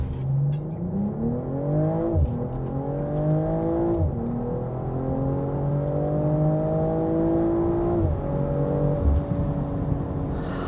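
A BMW M440i Convertible in Sport Plus mode launches, its engine note climbing loudly through several rising sweeps, each cut by a quick gear shift, then settling into a strong steady pull.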